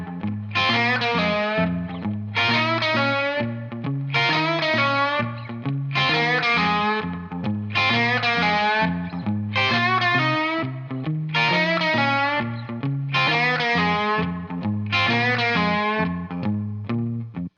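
An electric guitar plays a repeating blues riff, moved through the blues changes. Tone is driven and slightly distorted, and the short phrases recur about every two seconds, up close and with no voice.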